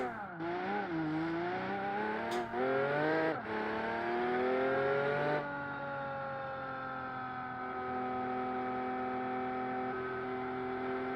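An Aston Martin V12 convertible in the BeamNG driving game accelerates hard from standstill toward 100 km/h. The engine note climbs steadily through quick gear changes, then settles into a loud, sustained, even drone.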